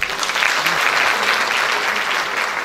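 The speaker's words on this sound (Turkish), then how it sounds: "Alkışlarınızla solistimiz Atlıhan Öge geliyor sahneye." Steady, dense audience applause fills the concert hall as a soloist is welcomed to the stage at a Turkish folk music performance, loud and sustained throughout.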